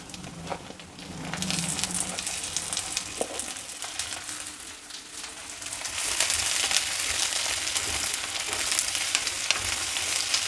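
Chopped brinjal hits hot oil in a pan already holding curry leaves, setting off a steady, close hiss of frying that swells louder partway through and keeps crackling continuously.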